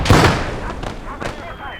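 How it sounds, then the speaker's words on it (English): Anti-tank grenade detonation in the Gates of Hell video game: a loud, sharp explosive blast right at the start, followed by a few fainter distant gunshot cracks and battlefield rumble. "Please throw the anti-tank grenade at him."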